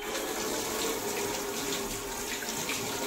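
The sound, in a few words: washing hands under running tap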